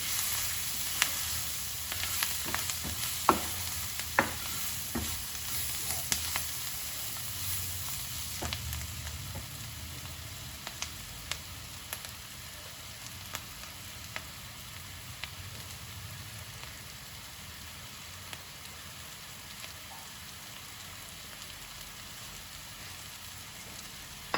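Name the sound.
onions frying and sizzling in a pan with spices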